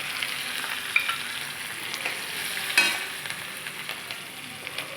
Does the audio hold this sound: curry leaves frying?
yes